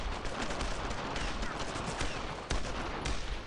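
Gunfire in the World War II shooter Brothers in Arms: Road to Hill 30, a continuous crackle of rifle and machine-gun shots with a few sharper reports standing out, fairly distant and steady.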